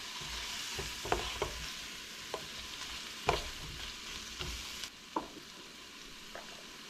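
Food frying in a pan gets stirred, with sharp spatula scrapes and knocks recurring at uneven intervals over a faint, low sizzle.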